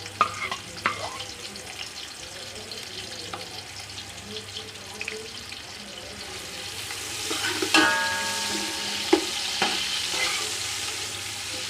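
Two onions tipped into a cup of hot oil for mutton yakhni pulao, giving a soft sizzle with stirring, clinks and a louder burst of frying partway through, no talking.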